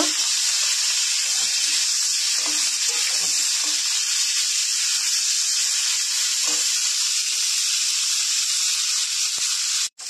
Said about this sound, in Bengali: ফুলকপিটা দিয়ে দিচ্ছি, ভেজে নেব।